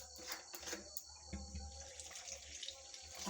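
Water from a tap poured into salted flour for kneading dough, a quiet, continuous stream with small splashes and a low background hum.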